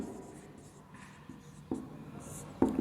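Chalk writes a proof heading on a classroom board, making faint scratchy strokes and a few sharper taps under a low room hum.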